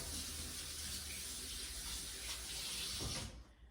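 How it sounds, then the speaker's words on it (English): Hands washed under a running kitchen tap while baking brownies: a steady close hiss of flowing water that cuts off abruptly near the end, with nothing else over it. "let me wash my hands"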